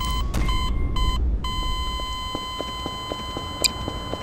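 A repeating electronic alarm in the video game Garry's Mod beeps steadily at a fixed pitch, a short break early on, then a continuous tone with faint regular clicks and a brief bright chirp near the end.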